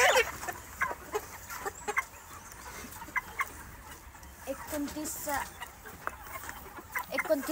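Chickens on a 5000-bird poultry farm cluck in a low, steady murmur of many birds, with scattered sharper calls and rustling; people talk faintly in the background.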